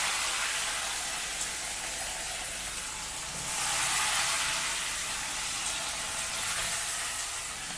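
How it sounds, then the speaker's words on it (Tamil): Onions fry over a high flame in a pan, giving a continuous dense sizzle that swells slightly midway, with no voices. "நல்லா ஹை ஃப்ளேமில் வச்சு வெங்காயம் ஒரு 3-4 நிமிஷம் நல்லா ஃப்ரை ஆகட்டும்."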